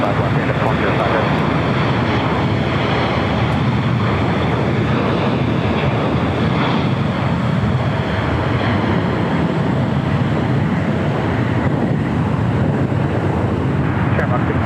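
Airliners, including an American Airlines A321, taxi at LAX with a loud, continuous, broadband jet-engine roar that stays steady throughout, close to the listener.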